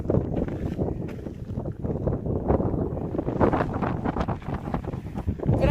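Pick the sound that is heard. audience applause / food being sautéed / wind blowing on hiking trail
wind blowing on hiking trail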